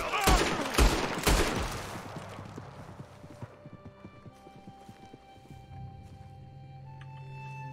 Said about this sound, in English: I'll shoot you dead before you know it.